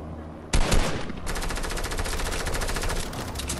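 Sustained rapid minigun fire in Fortnite, a dense continuous rattle that starts abruptly with a loud burst and keeps going steadily close up, with no talk over it.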